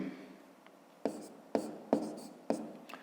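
Close, quiet pen strokes on paper during a fifth-grade maths exercise, four short scratching bursts in a steady rhythm after a near-silent start, with no talk.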